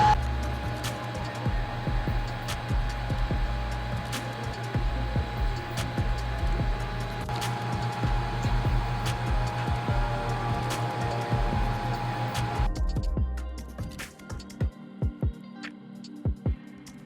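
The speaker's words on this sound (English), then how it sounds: "it's 3/4 of an inch thick, and that's a lot to cut for a 22-watt laser" A Creality Falcon2 Pro 22-watt laser engraver cuts through three-quarter-inch-thick material with a steady whirring fan hum and faint ticking, then stops near the end, leaving a few soft clicks.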